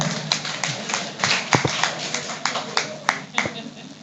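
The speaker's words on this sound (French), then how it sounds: "Applaudissez pour eux, s'il vous plaît." Audience at a Christian event giving a round of applause, scattered individual claps at an uneven rhythm, fairly close, over a low background hum.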